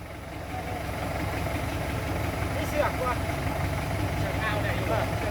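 Tractor engine idling on a wet morning after rain, a steady low rumble with a constant mid-range drone, fairly close and unbroken, while someone talks over it.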